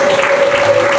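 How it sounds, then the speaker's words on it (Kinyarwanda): Applause and ululation rise for a woman at a celebration: steady clapping from a crowd with a sustained high trilling cry held over it, loud and close. "mumunyakirize amashyi n'impundu"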